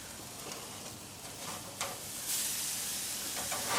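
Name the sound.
burger patty searing on a hot grill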